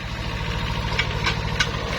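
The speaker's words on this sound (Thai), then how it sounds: "เครื่องยนต์สองสูบ" A small two-cylinder engine on imported Japanese farm machinery idles steadily with a low, even rumble and faint rhythmic knocking, close by and continuous, with no talk.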